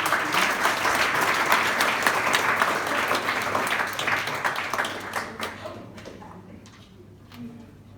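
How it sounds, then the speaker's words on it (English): Crowd applause after a motivational speech at a school, dense sustained clapping that is loud and steady at first, then thins into scattered claps and fades out toward the end. "Can we please get another round of applause for you?"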